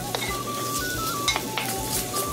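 Bacon sizzles in butter inside a clay pot, with a steady frying hiss and several light scraping, clinking stirs of a utensil against the pot.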